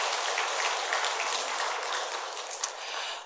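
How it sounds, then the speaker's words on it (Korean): A church congregation applauds steadily, a dense wash of clapping that carries on without pause. "우리 인사할 때 격려의 박수 한번 드리도록 하겠습니다"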